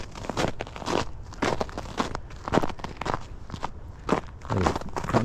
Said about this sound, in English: A little crunchy. Ice is a bit hard there